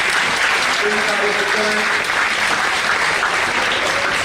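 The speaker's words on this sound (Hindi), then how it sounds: "अब आप सब लोग एक बार जोरदार तालियां बजाएं" A crowd claps loudly and steadily throughout, a dense applause with a voice speaking over it briefly, at a student awards ceremony in India.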